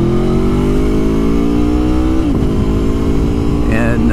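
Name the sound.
Aprilia Tuono motorcycle engine revving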